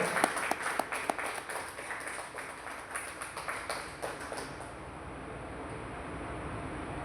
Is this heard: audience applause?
yes